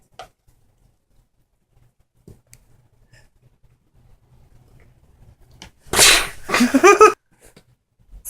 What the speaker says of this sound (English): She sneezed into the cup.